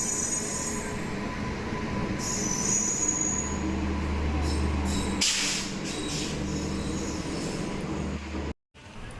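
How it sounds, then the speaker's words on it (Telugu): The Ratnachal Express rolls into platform 2 at Nidadavolu Junction railway station, a loud, continuous rumble of wagons with squealing wheels and hissing brakes, up close and without voices. "నెంబర్ 2 మీదకి అయితే వ్యాగ్నైన్ లోకి అయితే పుల్ చేసుకుంటూ ఒక ట్రైన్ అయితే వస్తుంది."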